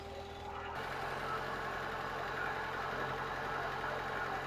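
A 1976 Toyota Celica engine idles steadily after an exhaust leak repair, with a low, even rumble and faint vibration, close by, with no voices.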